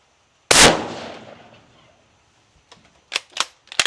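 A Winchester .243 rifle round fires into a steel anvil, one sharp loud crack that rings and decays over about a second, followed after a pause by several quieter sharp clicks and snaps.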